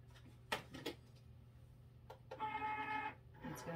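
Motorized whir of a Cricut cutting machine starting to cut black glossy vinyl letters, with a few clunks and a sustained tonal hum, heard close up in a quiet room.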